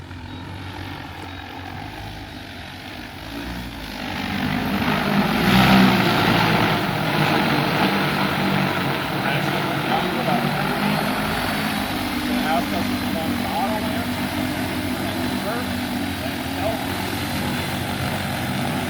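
A Talos T60X agricultural spray drone flies back toward the operators on automatic return, its steady propeller drone swelling slightly louder midway and holding a constant buzzing hum, with voices talking over it.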